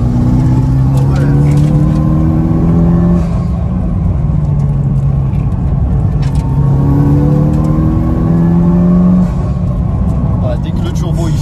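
A Mitsubishi Lancer EVO 8 Stage 2 rally car engine revs and accelerates with its turbo spooling, rising in pitch through repeated gear pulls, loud and close, with people talking over it.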